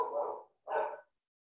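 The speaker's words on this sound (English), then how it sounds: "My dog's barking." Two loud dog barks close by, a short pause between them, then silence.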